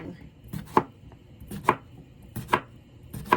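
Knife chopping cucumbers and red pepper on a board, four loud, sharp strikes at a steady pace of roughly one per second, close and alone without any talking.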